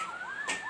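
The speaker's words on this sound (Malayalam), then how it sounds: "ഒന്ന് തല്ലിയ അപ്പം വരും പോലീസ് വണ്ടിയും പിടിച്ച്." A police car siren in the Rope Hero video game, wailing in a steady rising and falling sweep, fairly faint, with no talk over it.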